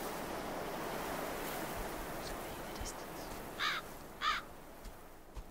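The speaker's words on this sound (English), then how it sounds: "A lot of crows." Crows caw twice in quick bursts, somewhat distant, in the countryside of the video game Betrayer, over a constant wind- or surf-like wash; a few fainter caws follow near the end.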